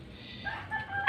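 Chickens in a coop being built with long wooden perches give faint, soft clucking calls that rise toward the end into a brief louder cry, with no voices present.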